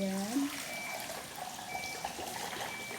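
Water poured into a blender over hard ice for homemade lemonade, a steady trickling splash after a brief voice at the start, continuing quietly and close throughout.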